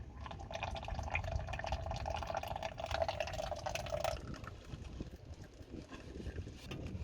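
Motor oil draining from a Lexus GX 470 during an oil change, a continuous splashing, trickling pour into a pan with a steady wash of liquid noise that thins slightly toward the end, moderately close.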